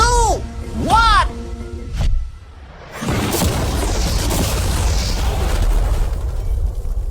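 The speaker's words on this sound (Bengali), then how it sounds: "বিস্ফোরণটা এত জোরে হয়েছে যে ভিতরের ম্যানিকুইন গুলো ছিটকে এদিক ওদিকে বেরিয়ে গেছে।" A loud blast blows up an ordinary car with mannequins inside, a sudden roaring burst followed by sustained rumbling and debris noise; a voice counts down just before, and people talk over the aftermath.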